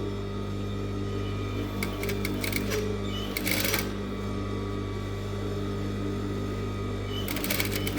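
A sewing machine stitches the hem of a blouse, its motor running in a steady, continuous close-up drone, with a few brief brighter clicks over the hum and no talking.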